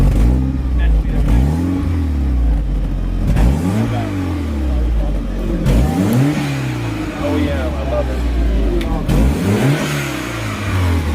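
A performance car engine revs hard again and again at a car show meet, climbing and dropping in pitch in repeated loud bursts close by at the exhaust, with voices mixed in.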